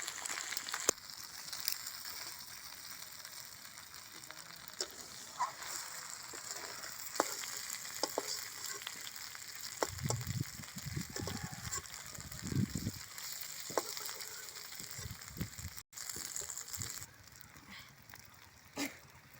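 Chicken curry (kosha mangsho) sizzles in a pan with a soft, continuous frying hiss, broken by scraping stirs and louder clattering bursts partway through, with faint background noise and no clear talk.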